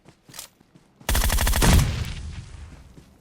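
A grenade bursts in PUBG Mobile gameplay: a few faint clicks, then a sudden loud, close blast with a rapid crackling roar that fades out over about two seconds.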